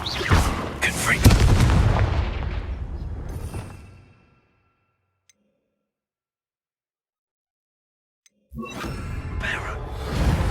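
Confringo fire spell in Hogwarts Legacy, a loud booming blast with a whooshing burst that decays over a few seconds into silence before another explosive impact starts near the end.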